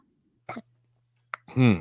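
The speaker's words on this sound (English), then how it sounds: "Hiccup there." A single sharp hiccup from an adult on a live podcast, a brief abrupt catch in the throat, followed by a short second burst and then a voice starting to talk, close and clear.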